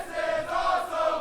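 A wrestling crowd at a Deep South Wrestling show roars and chants in a steady, fairly loud wash of voices with no clear talk above it.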